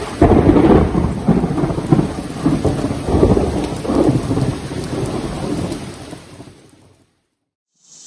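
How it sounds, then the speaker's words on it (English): A heavy thunderstorm with dense, steady rain and rolling thunder, loud and close for about seven seconds before it cuts abruptly to silence. "it just started raining"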